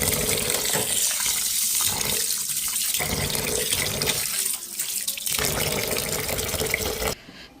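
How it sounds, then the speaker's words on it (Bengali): Rice being washed under a running kitchen tap, a steady close splash and rush of water with brief dips where the grains are swirled or the flow is interrupted, stopping near the end. "এখন চালগুলো ভালো করে ধুয়ে তারপর মাংসের মধ্যে দিয়ে দেব।"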